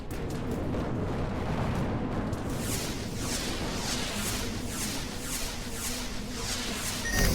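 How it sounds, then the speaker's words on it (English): Missiles firing and exploding in a space battle in the game Between the Stars, a dense roaring rumble of blasts with a regular train of crisp bursts near the end. "Look at my missiles. They're glorious."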